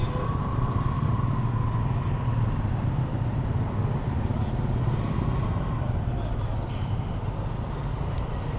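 Motorbike riding through busy Hanoi street traffic, with a steady engine drone and continuous road noise as the bike moves among cars, buses and other motorbikes.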